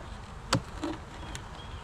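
Honey bees in a hive during an October inspection, a faint, low buzz with a few brief clicks and knocks from handling the box, quiet and close.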